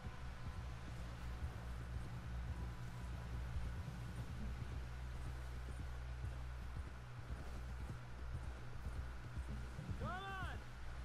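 A horse's hooves clip-clop steadily at a walk in Red Dead Redemption 2, the regular thuds sitting over a low droning background with a brief whistling tone near the end.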